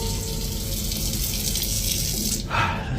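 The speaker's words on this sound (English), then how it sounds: "the kitchen faucet activated repeatedly by itself" A kitchen faucet runs steadily into the sink, a continuous close rush of water that briefly brightens near the end.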